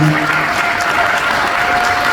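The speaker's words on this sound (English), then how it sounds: "Can we just give another round of applause for them?" An audience gives students a round of applause at a college prep scholarship awards ceremony, loud and sustained clapping filling the room from start to finish.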